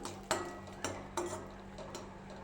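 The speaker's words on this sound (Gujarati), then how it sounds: "આ કાજુના ટુકડા લીધેલા છે તેને પણ શેકી લઈશું" Cashew pieces rattling and scraping in a pan as a spoon stirs them while roasting, with several distinct clinks over a low steady hum.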